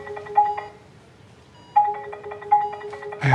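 A mobile phone rings from inside a person in a comedic TV commercial, playing a bright electronic ringtone in two short bursts separated by a pause, fairly close and clear, with no talk over it.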